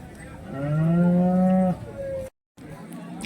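A cow at the Neknur cattle market lets out one loud, drawn-out moo close by, followed by a shorter lowing call before a sudden cutoff.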